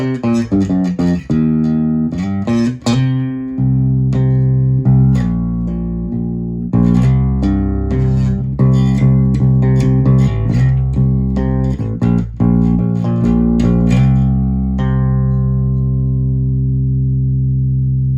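A 1989 Squier II PJ electric bass guitar on its neck pickup plays a run of deep, warm, round notes with long sustain, plucked steadily and then left ringing out to fade, heard alone.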